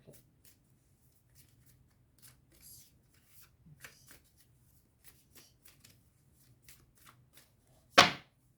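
Tarot cards being shuffled in soft, sparse riffles and flicks, ending in one sharp, louder snap as the deck is cut, close and quiet with no talk.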